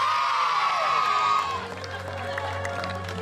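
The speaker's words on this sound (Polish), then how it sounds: "I jeszcze większe brawa i głośny hej na pani dyrektor, pani Elżbiety Łojszczyk" A crowd at a children's integration song contest cheers and claps, with a loud rising shout of voices at first that gives way to lighter applause and a steady low hum.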